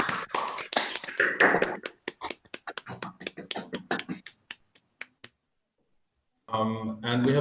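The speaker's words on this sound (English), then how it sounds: "let's give Tony a round of applause" Remote participants on a video call for a university computer science talk clap through their microphones, a burst of overlapping claps thinning into sparse, sharp single claps before dying out, then a voice resumes speaking.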